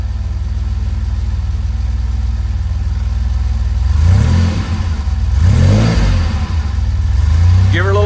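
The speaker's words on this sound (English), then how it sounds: "Oh, man, just listen to that rumble" A car engine rumbles at a steady idle, then the throttle is blipped twice for loud, deep revs before settling, and a third rev begins at the end, with people talking nearby.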